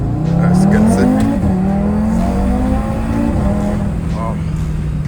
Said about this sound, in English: Now let me show you how the car drives without the JB4.